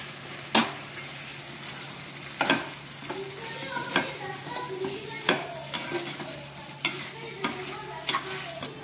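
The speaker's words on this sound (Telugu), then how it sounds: "మనం ఈ వేసుకున్న ఈ పేస్ట్ అంతా చికెన్ ముక్కలకు బాగా పట్టేటట్టు ఒకసారి బాగా కలుపుకోవాలి" Chicken curry pieces coated in spice paste stir-fry in a pan, with steady sizzling broken by repeated scraping stirs of a spoon, close and fairly loud.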